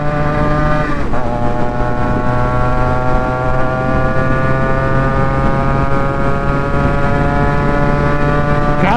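A Yamaha RX-Z motorcycle with a 4-speed silencer, fitted with a 5-speed gearbox, revs loud and close in a sustained two-stroke drone, the pitch dipping and rising again, with no talking.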